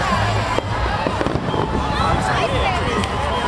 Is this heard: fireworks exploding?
yes